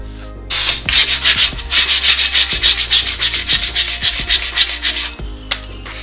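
Sandpaper worked by hand around an Audi A2 alloy wheel rim, giving a steady run of rhythmic rasping strokes, close and loud, with no voices.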